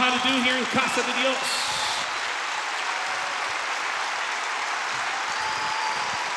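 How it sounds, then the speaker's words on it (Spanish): A congregation in a church service applauds to welcome a guest speaker: a brief voice at the start, then a steady wash of clapping that holds at an even, moderate level. "Dale un fuerte aplauso."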